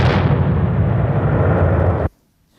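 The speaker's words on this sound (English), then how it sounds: "I can hear an explosion." A loud, sustained explosive roar with deep rumbling that continues for about two seconds, then cuts off abruptly into near silence.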